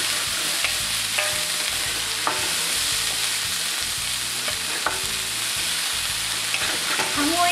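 Vegetables for Filipino pansit stir-fried in a hot pan, a loud continuous sizzle with repeated rhythmic scraping and tossing strokes, close up and with no voices.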